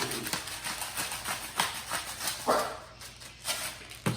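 A dog in a home kitchen barks in short, repeated bursts at moderate distance, spaced across a few seconds with quieter gaps between.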